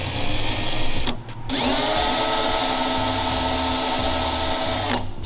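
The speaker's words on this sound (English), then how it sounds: "Can I drill it?" A power drill bores into a Nissan S15 Silvia with a loud, steady, high-pitched whine. It stops briefly after about a second, spins back up and runs to the end, with no talk.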